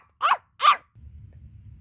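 A dog gives two sharp, clear barks in quick succession, fairly close, followed by a low, quiet rumble.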